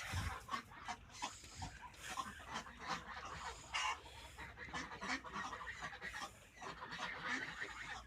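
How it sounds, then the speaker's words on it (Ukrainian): A busy chorus of ducks and a young drake quacking and calling over one another, continuous and fairly distant, with other farmyard birds mixed in. "Качки знайомляться з молодим качером."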